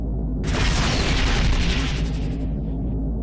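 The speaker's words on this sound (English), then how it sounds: "I just shot a heat-seeking missile at nothing." A heat-seeking missile launched in the space-combat game Rebel Galaxy Outlaw: a sudden loud whooshing blast that roars for about two seconds, then trails off, with no voices.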